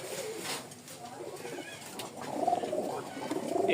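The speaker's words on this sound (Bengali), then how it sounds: "চলেন কি কি কবুতর আছে" Pigeons coo softly and repeatedly in a dim loft at dusk, the low burbling calls rising and falling with some rustling and faint voices nearby.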